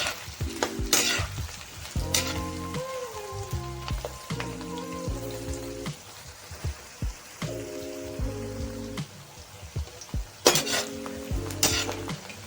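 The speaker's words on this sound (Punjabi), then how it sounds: "ਸਾਡਾ ਤੇਲ ਜਿਹੜਾ ਇਹ ਚੰਗੀ ਤਰ੍ਹਾਂ ਗਰਮ ਹੋ ਚੁੱਕਿਆ ਹੁਣ ਅਸੀਂ ਪਿਆਜ਼ ਨੂੰ ਕਰਦੇ ਹਾਂ ਜੀ ਇਹਨੂੰ ਮਿਕਸ" Onions fry in hot oil in a pan, a steady crackling sizzle broken by repeated close scrapes and knocks of a utensil stirring, with a melodic tune playing underneath.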